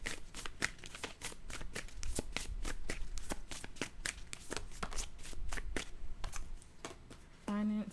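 A deck of tarot cards is shuffled by hand in quick, rhythmic riffling bursts, a close and crisp flutter that repeats steadily throughout, with a short vocal sound at the very end.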